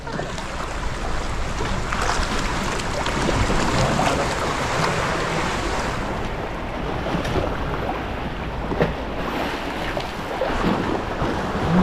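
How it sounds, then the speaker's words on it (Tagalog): Large ocean waves surge and wash around a small boat out at sea, a steady loud rushing roar of water mixed with heavy wind buffeting the microphone and occasional knocks, with no talking. "Laki ng alon."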